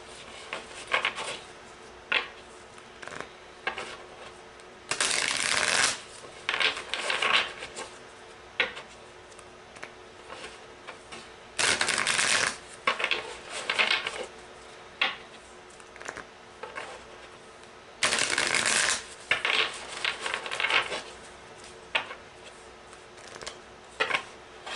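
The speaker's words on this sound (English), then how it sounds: "Shuffle." Tarot cards are shuffled close up in quiet bursts, with soft riffling and sliding broken by three longer, louder riffle shuffles spaced several seconds apart, with no talking.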